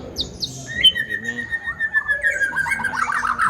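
An oriental magpie-robin sings nearby, bright whistled phrases and a long sliding note mixed with quick chirps, loud and clear, while soft cooing and a low voice sit faintly beneath.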